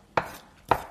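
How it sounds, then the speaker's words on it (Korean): A knife chops marinated shrimp twice on a cutting board, two crisp separate thuds close by. "아까 재워둔 새우는 먹기 좋게 잘라주시면 되세요."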